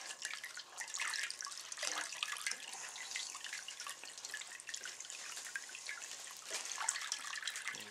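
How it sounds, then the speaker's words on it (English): Cold water runs from a tap into a container, a soft splashing and trickling stream with bubbly fluctuations, fairly quiet and close, with no speech. "what we're going to do is we're going to fill this with cold water"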